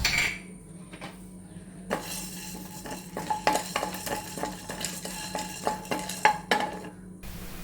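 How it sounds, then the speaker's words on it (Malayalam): Ghee and black pepper go into a hot pan with a spoon clinking and tapping against the metal in a quick irregular series, over a low background hum and a faint sizzle. "അതിലേക്ക് നമുക്ക് ഒരു സ്പൂണോളം നെയ്യിട്ട് കൊടുക്കാം. ഒരു സ്പൂണോളം കുരുമുളക് ഇട്ട് കൊടുക്കാം."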